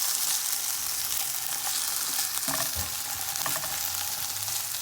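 Diced potatoes fry in a buttered pan with a steady, close, bright sizzle, broken by a few brief stirring scrapes midway.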